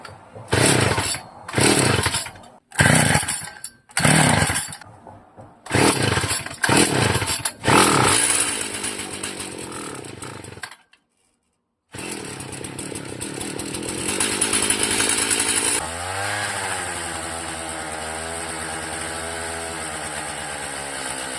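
An old motorized bicycle engine with a freshly refitted carburetor and new fuel line is pulled over repeatedly in short loud bursts, then catches and runs with a buzzing two-stroke drone that settles into a lower, steady idle, close up.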